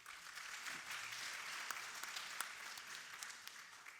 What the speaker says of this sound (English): A little bit of applause to start the meeting.